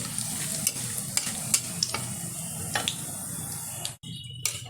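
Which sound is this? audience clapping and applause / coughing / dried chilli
dried chilli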